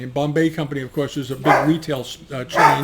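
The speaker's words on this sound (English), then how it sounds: "excuse my dog in the background; he's a little excited." An excited dog barks in the background, its yips and barks partly buried under someone talking steadily close to the microphone.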